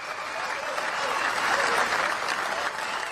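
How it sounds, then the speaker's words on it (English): Police officers applauding colleagues as they leave a courthouse, a sustained crowd of clapping hands swelling slightly in the middle and holding steady, moderately near, with no clear speech. "they were applauded by fellow officers as they left court"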